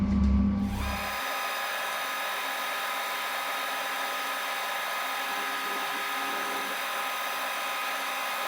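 A new drill bit starts a hole without a center drill, a steady loud high-pitched machine whine that settles in after a brief low clunk at the start and runs on unchanged.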